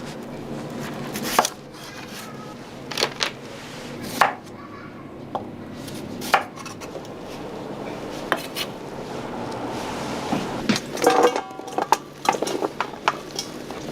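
A knife splits daikon radish into thick strips on a board, giving a steady run of crisp, close chopping strokes at uneven intervals, with light clatter between cuts.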